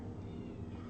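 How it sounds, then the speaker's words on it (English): A pet cat meows faintly in the background of a home kitchen during baking, a short, muffled cry that is barely above the room noise. "That's my cat meowing in the background"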